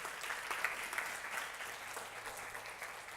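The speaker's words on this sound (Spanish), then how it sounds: "Dale un aplauso al Señor por su misericordia." A church congregation bursts into applause during a Spanish-language Sunday service, a dense, even roll of many hands clapping for about three seconds with no voices on top.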